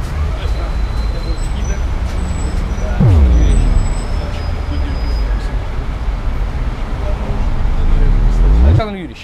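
Inside a trolleybus riding through Simferopol, a loud steady drone of traction motor and road noise fills the cabin, with motor whines sweeping up and down as it accelerates and slows, and people talking under it.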